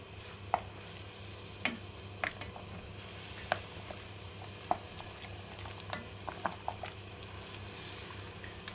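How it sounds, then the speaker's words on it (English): A spoon stirring beef olives in a pan, quiet clinks and scrapes recurring every second or so over a soft, steady background simmer, close and fairly faint. "we'll give it a little stir with a spoon"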